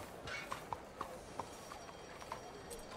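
A horse's hooves clip-clop at an unhurried walking pace in the Red Dead Redemption 2 video game, a series of distinct clopping beats over soft ambient game sound.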